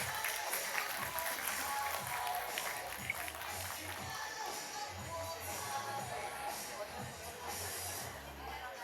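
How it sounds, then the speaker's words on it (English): Audience applause at a school result celebration, sustained clapping with crowd murmur and shuffling, fairly even throughout with a slight swell near the end. "Let's give him a huge round of applause"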